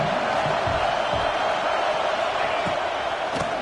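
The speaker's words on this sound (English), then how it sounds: "this crowd is turning it up a notch" Large stadium crowd at a Georgia Tech at Clemson college football game, a loud sustained roar swelling between plays with faint scattered shouts.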